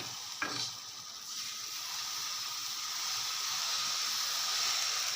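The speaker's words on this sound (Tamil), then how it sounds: "இப்போ இதில் நம்ம இதை தோசையாக ஊற்றிக்க வேண்டியதான்." Wheat dosa batter hits a hot griddle, a brief splash at the start and then a steady, gentle sizzle that slowly grows louder, heard alone at low level.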